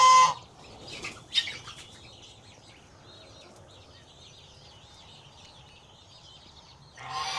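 A hen chicken flaps her wings in a quick burst, then makes soft, faint clucking and rustling sounds at close range, followed by another flutter at the end.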